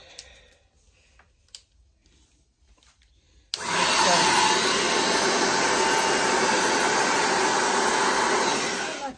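An air blower used on acrylic paint for a Dutch pour switches on after a few quiet seconds of faint clicks, then roars loud and steady to the end.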